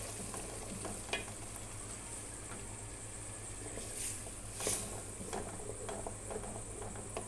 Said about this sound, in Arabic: اول ما اشم ريحة التوم هنزل بقى بالصلصة بتاعتي